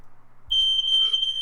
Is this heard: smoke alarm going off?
yes